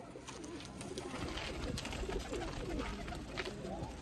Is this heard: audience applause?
no